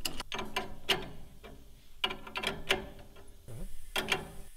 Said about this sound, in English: We're then going to go ahead and put our coil spring compressors on.